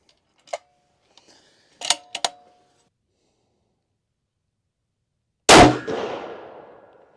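A rifle fires Hornady Match 147 grain ELD rounds at a 100-yard target: faint clicks and clanks of handling come first, then one loud, sharp report whose echo trails off for over a second.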